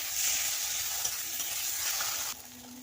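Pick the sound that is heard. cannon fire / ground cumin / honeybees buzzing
ground cumin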